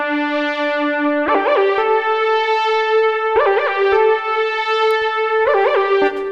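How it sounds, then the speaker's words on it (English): Synth lead with pitch bends from a Tyrrell N6 softsynth, modeled on a Roland Juno-60-style sound, for a song: sustained bright tones that swoop upward in pitch three times, loud and alone. "pitch bend lead that comes in right here, and that sounds like this"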